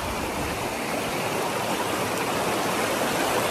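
The seventh river on a route to a remote mountain sitio rushes and flows in a steady, dense hiss of water. It is close and constant throughout, with no voices.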